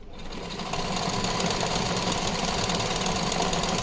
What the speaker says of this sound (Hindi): अब ये हमें चारों तरफ सिलाई लगानी है।